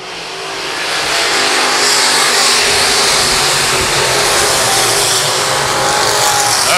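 Race cars roar past on Lakeside Speedway during a dirt-track style race, engines swelling to a loud, steady, close-up drone that stays strong for several seconds with no voices.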